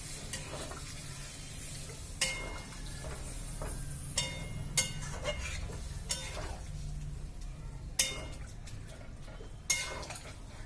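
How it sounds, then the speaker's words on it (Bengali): A spoon stirs and scrapes through chicken curry masala frying in a pan, with a steady low sizzle underneath and intermittent sharp clinks of metal against the pan. "তেল লেগে আছে পুরো, ধুয়ে দিয়ে দিই।"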